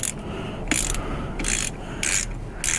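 A hand ratchet with a 9/16 socket tightening a fill bolt on a Jeep, several close, crisp bursts of clicking in a steady back-and-forth rhythm, no voices.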